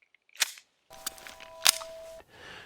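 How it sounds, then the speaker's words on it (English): A Kel-Tec P15 9mm pistol's slide snaps forward as a loaded magazine is slammed home, giving a few sharp metallic clacks, close and crisp, with no voices. "you get the slide to drop when you forcefully slam a loaded mag home on an open slide"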